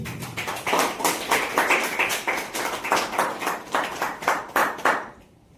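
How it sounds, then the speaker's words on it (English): A small classroom audience at a question-round session on education claps together for about five seconds, a dense burst of handclaps that stops abruptly at the end. "So please clap for them."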